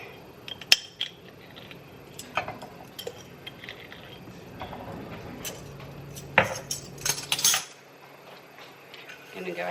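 Melted butter and brown sugar being stirred together in a pan, with a utensil clinking and scraping against the metal in irregular taps and a few sharper knocks, close up.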